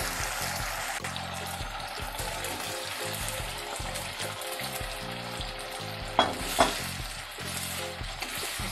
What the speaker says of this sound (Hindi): देखिए अब इसमें जाएगा चिकन